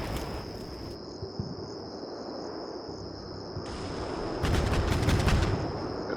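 Missile launches in the Combat Mission Black Sea wargame, a constant high whine over crackling rumble, with a louder burst of broadband firing noise near the end, fairly faint overall.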